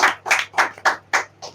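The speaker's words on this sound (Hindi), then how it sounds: "फिर से एक बात ताली बजाइए।" Congregation at a Good Friday church service clapping hands together in six distinct rhythmic bursts, fairly close and loud, with no talking.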